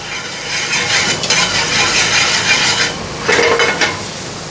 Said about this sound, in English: Gonna add some olive oil. I'm gonna add some garlic. And just saute it.